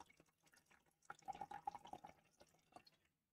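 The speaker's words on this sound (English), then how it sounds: "let's go ahead and get about an ounce of Blackheart in there" Blackheart premium spiced rum is free-poured into a glass, heard as a quiet close run of gurgling, dripping liquid splashes that fades to silence at the end.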